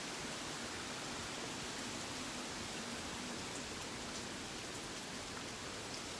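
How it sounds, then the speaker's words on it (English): Rain during Hurricane Dorian, a dense, steady hiss of rainfall with a low rumbling undertone, unbroken and fairly loud, with no talking. "we got a little bit of rain"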